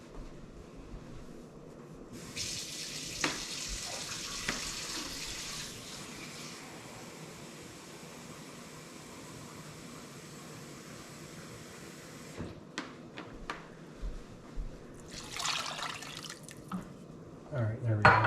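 Water runs from a tap into a bowl in a home kitchen while pea soup with ham is made, a steady hiss holding for about ten seconds before breaking into splashes and clinks, with a voice speaking quietly now and then.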